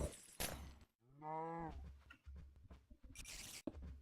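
Cows in Minecraft let out one drawn-out moo near the middle, surrounded by scattered game clatter and footstep-like thumps.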